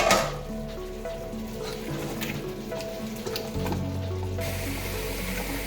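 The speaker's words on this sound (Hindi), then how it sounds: "हम इसमें आलू ऐड कर देंगे ताकि साथ आलू भी गल जाए।" Potatoes dropped into meat stock (yakhni) for Kashmiri aloo gosht, giving a continuous hissing sizzle and bubbling that rises slightly near the end, alone without talk.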